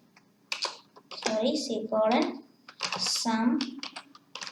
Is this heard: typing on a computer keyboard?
yes